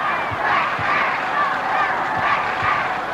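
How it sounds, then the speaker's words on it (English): Tottenham supporters roar at a West Ham v Tottenham football match, a steady, loud crowd din swelling and sustained throughout with no clear breaks. "This is the Tottenham roar starting."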